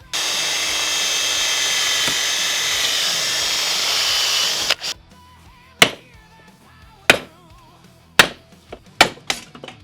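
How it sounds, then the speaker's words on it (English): A power drill whines steadily for several seconds drilling out rivets on a two-stroke silencer, then stops, followed by a series of sharp metallic clanks and taps at irregular intervals. "we have to drill these two rivets off"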